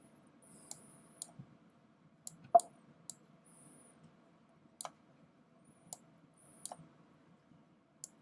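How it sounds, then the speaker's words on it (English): A computer mouse clicks while curves are dragged in Photoshop, giving sparse, sharp, quiet single and double clicks over a faint low hum. "I can click and drag them to create out a curve on the inside."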